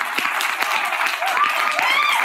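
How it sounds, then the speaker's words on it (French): A live studio audience claps steadily and fairly close, with a bright, continuous patter of hands and a faint voice or whistle rising above it near the end. "En plus, il y a les applaudissements."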